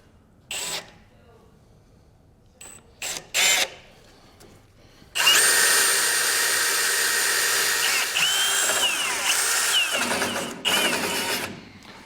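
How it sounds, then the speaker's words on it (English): A few short drill bursts start and stop, then a power drill whines steadily for several seconds, boring through a vehicle's steel frame before easing off. "When you drill all the way through the frame"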